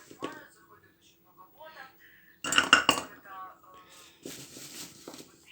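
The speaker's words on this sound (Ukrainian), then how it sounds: "беремо сосуд і додаємо е, сюди заморожені фрукти" Frozen fruit, including plums and cherry plums, dropped into a pot for compote, giving bursts of hard clattering and clinking against the vessel between quieter handling sounds, close by, with a person talking over it.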